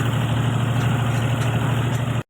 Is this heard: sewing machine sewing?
no